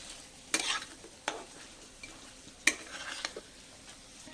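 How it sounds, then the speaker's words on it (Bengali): Desi chicken with chili powder being stirred in a frying pan, with a soft sizzle underneath and a few sharp scrapes and clinks of the spoon against the pan, close and fairly quiet. "নেড়ে নিচ্ছি।"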